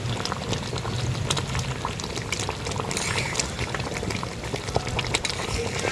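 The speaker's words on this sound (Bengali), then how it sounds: "আর এইভাবে কিন্তু জাল দিতে থাকবো প্রায় কুড়ি থেকে পঁচিশ মিনিট" Mango jelly pickle with sugar and vinegar simmers on a stovetop over low heat, a steady close bubbling and spattering that runs unbroken for the whole stretch with no talking.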